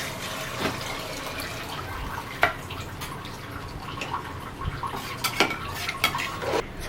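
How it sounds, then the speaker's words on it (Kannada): Water poured into a pot of pulao and stirred, with close clinks and scrapes of a metal spoon against the pot over a soft running-water wash, no voices. "ನೀರು ಹಾಕ್ತಿದ್ದೀನಿ."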